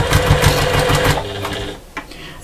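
A sewing machine runs steady top stitching along the binding of a fabric ruler storage bin, a close, continuous motor whir with needle chatter that slows and stops near the end.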